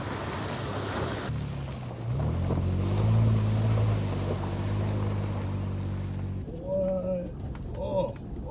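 A Toyota FJ Cruiser driven off road: its engine drones steadily and rises in pitch with wind rushing over it, then drops away near the end as voices break in.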